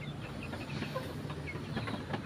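Chickens cluck softly in a steady, busy background murmur, several birds close by with no talking.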